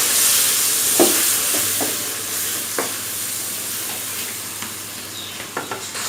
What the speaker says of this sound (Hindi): थोड़ा सा पानी लगा के इसको अच्छे से भून लेंगे।